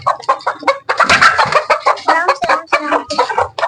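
A hen clucking loudly and close, a rapid run of throaty, choppy clucks and squawks in an irregular rhythm with only brief pauses.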